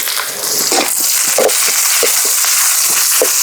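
Fennel seeds and green chilies fry in hot oil for a crab masala, giving a loud, dense, close crackling sizzle with scattered scrapes and pops of a stirring spoon, and no voices.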